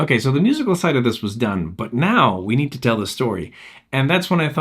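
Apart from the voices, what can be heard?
None of the usual background noises is heard.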